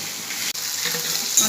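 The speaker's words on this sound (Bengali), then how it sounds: "এবার আস্তে আস্তে ভাজা করে নেবো অল্প আঁচে।" Water lilies fry slowly over a low flame in a pan, a steady close sizzle of hot oil that hisses continuously with a brief dip partway through, no voices.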